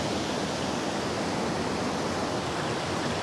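Rapidly flowing water rushes over rocks and boulders in a steady, broadband roar, constant and fairly close, with no voices.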